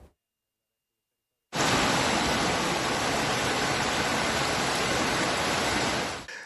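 A flooded river that has burst its banks, at San Zenone degli Ezzelini, roars in a loud, steady wash of rushing water, starting abruptly after a short silence and holding constant until it cuts off.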